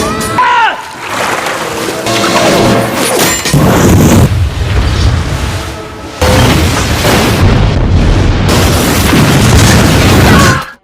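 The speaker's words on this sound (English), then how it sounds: "triggering a massive explosion that finally destroys and sinks the Antonia Graza" A massive explosion tears through the sinking ghost ship Antonia Graza, rendered as a loud, sustained roar of booming blasts and churning water with dramatic score underneath, surging in several heavy waves.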